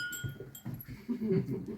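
A goat kid on a Hutsul farmstead in Verkhovyna in the Carpathians gives a few short, wavering bleats close by, with livestock shuffling and faint background noise around it.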